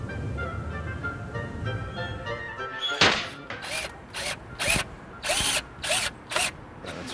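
A cordless power drill drives a screw into timber while building a greenhouse heat sink, starting after a stretch of quiet room tone with a sharp hit, then running in several short, loud bursts separated by brief pauses.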